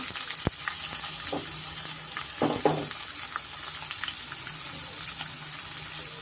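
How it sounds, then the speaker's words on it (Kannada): Onions fry in oil for a spicy pork curry with a steady, bright sizzle, broken by a sharp tap and a couple of scraping stirs, with no voices. "ಇಲ್ಲಿ ಚೆನ್ನಾಗಿ ಗೋಲ್ಡನ್ ಕಲರ್ ಆಗೋವರೆಗೂ ಚೆನ್ನಾಗಿ ಫ್ರೈ ಮಾಡ್ಕೊಬೇಕಾಗುತ್ತೆ"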